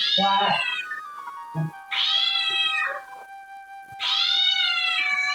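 A cat yowling in three drawn-out, wavering caterwauls, loud and close, with brief quiet gaps between cries.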